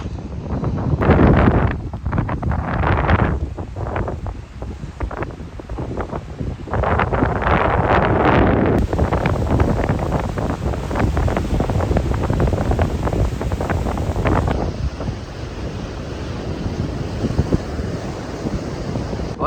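Strong wind buffeting the microphone over rolling ocean surf on a beach on Hawaii's North Shore, a loud continuous roar of breaking waves and gusts with no voices.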